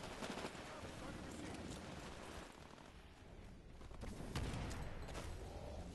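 A shotgun blasts in Titanfall amid chaotic multiplayer combat, with a couple of loud sharp shots punching through dense gunfire and explosions.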